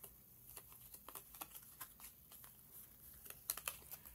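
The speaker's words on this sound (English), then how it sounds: "So take all of your items, flower, hat, weapon, gloves, and glasses, and shuffle them." Print-and-play game cards shuffled by hand at close range in a quiet room, producing a soft, irregular run of papery riffles and flicks for a few seconds.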